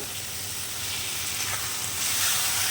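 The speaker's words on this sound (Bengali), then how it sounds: "এই গ্রেড করা পনিরটা এর মধ্যে দিয়ে দেবো তারপর ভালোভাবে নাড়তে হবে" Grated paneer sizzles in a hot pan, a soft continuous frying hiss that swells slightly toward the end as it is stirred.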